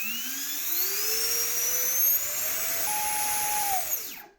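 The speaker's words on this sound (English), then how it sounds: "It's a QX motor EDF." A QX motor 50 mm electric ducted fan on a 4S battery whines steadily on a thrust test stand, its pitch climbing gradually to a high sustained scream, then winding down abruptly at the end; loud and close, no talk.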